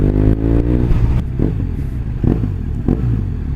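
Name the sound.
BMW R1200R motorcycle engine revving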